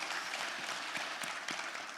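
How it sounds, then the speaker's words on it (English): Quiet applause from a symposium audience during a museum collections panel, an even wash of many hands clapping at a distance with no clear breaks. "You're applauding before they've answered"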